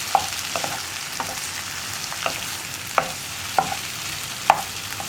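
Egg, tomato and onion mixture being stirred in a hot pan for kothu chapathi, with a spatula scraping and clacking at irregular intervals over a steady background sizzle.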